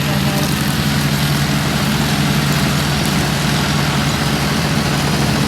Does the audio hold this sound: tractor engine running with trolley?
yes